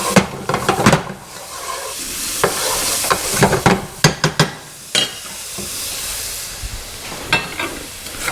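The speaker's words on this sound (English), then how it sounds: "Let's give those a little stir." Shrimp sizzling in a pan for camarones enchilados, with a steady loud frying hiss broken by repeated clacking and scraping bursts from stirring.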